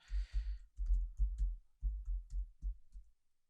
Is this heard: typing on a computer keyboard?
yes